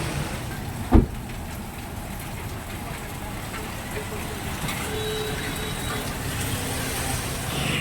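Steady rain falls throughout as a constant broadband hiss, with a single sharp knock early on.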